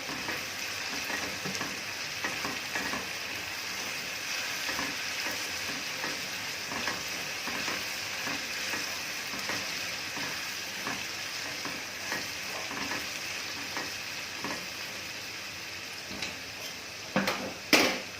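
Potatoes frying in oil with tomato sauce added, sizzling steadily and densely throughout with occasional louder stirring scrapes near the end, close up and without voices.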